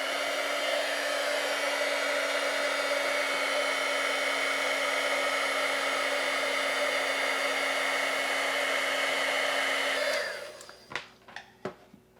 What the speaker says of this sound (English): Now I am going to bring in my heat gun, and the heat gun will heat up this embossing powder and give it a nice glossy texture to it.